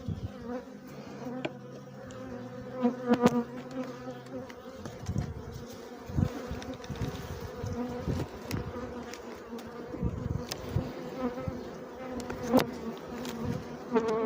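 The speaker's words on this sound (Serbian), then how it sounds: "Ima ovdje masa pčela tek da izađe." A dense, steady buzz of honey bees fills the hive up close during a hive inspection, humming continuously with occasional louder passes of individual bees.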